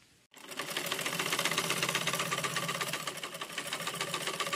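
An old sewing machine stitches curtain fabric at home, starting after a brief pause and then running as a steady, fast mechanical whir and clatter with an even pulsing rhythm, close and loud, with no voices.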